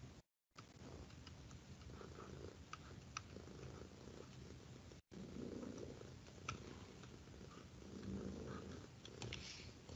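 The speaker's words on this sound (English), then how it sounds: "There he goes, the purr machine." A cat purrs softly and continuously, close by in a quiet room, the low rattling rhythm broken only by two brief dropouts.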